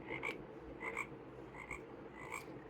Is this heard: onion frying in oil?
no